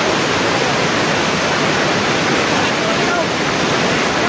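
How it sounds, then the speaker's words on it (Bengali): Jhorjhori waterfall on the Napittachhara trail near Sitakunda, Chattogram: a loud, continuous close roar of falling water with steady broadband noise and no breaks, a voice faintly present beneath it. "এই ঝর্ণাটার নাম হচ্ছে ঝরঝরি ঝর্ণা।"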